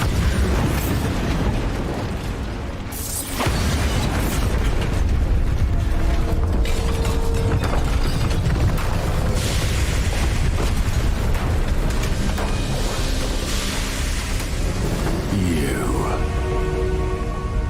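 A Bombarda spell blast in Hogwarts Legacy booms as a loud explosion, layered with mechanical grinding from a drill and dense game effects that stay heavy throughout.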